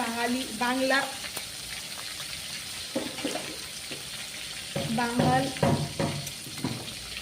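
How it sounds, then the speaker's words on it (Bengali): Tangra fish frying in a pan gives a steady, close sizzle with occasional stirring clatter, while a person talks over it. "আমি আস্তে গন্ধ একেবারে সহ্য করতে পারি না বলেই একটু ফ্রাই করে নিচ্ছি"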